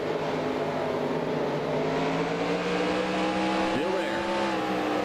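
Sustained race car engine drone from the NASCAR Racing 2003 sim at Oxford Plains, steady and loud, with harmonic pitch lines holding a constant whine and a brief dip and rise near the end, under a spotter's radio calls.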